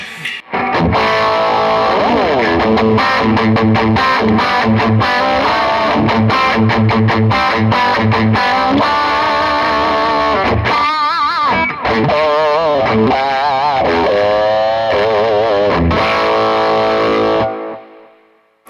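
A loud, heavily distorted electric guitar riff on a Universum Galaxy guitar, chugging power chords followed by bending lead notes, then an abrupt stop.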